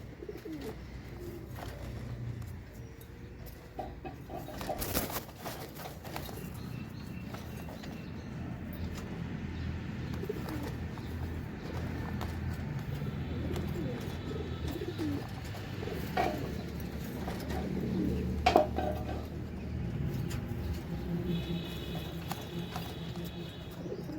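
Pigeons coo repeatedly in a loft, some of them suffering from a cold, with low murmuring calls, occasional flutters and knocks, and scattered sharper sounds throughout.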